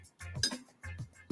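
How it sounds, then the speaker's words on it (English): A large ice cube drops into a glass while an after-dinner drink is being prepared, giving a few quiet, close clinks and knocks with short gaps between them. "let's put a nice big ice cube in the glass"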